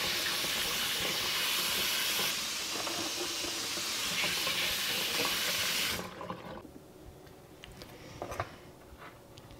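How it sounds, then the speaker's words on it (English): Tomatoes washed under a running kitchen tap, a steady hissing stream of water for about six seconds, then the flow stops, leaving faint clatter and drips. "I'm just gonna get these washed"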